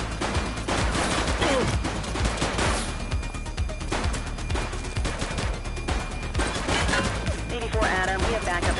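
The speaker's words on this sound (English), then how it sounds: "He's shooting!" Dense, rapid gunfire from the police video game The Precinct: sustained bursts of shots and automatic fire rattle loudly throughout, layered over a busy game soundscape.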